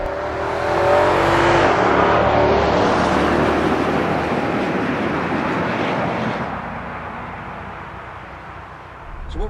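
A 2021 Nissan Armada SUV's engine revs up loudly with rushing road and wind noise, accelerating hard onto a highway before easing off toward the end.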